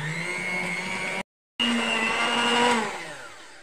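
Electric mixer beating eggs with liquid vanilla for cake batter, a steady loud motor whine with a brief cutoff before restarting and running on alone.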